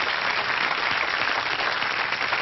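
Studio audience applause on a French television music show, a short dense burst of clapping greeting a guest, steady and full throughout.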